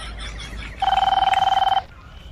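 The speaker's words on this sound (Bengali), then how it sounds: "কেটা ফোন করেছে দেখি" A telephone rings once in a steady electronic trill lasting about a second, loud and close, between quieter room sounds in a Bengali village household.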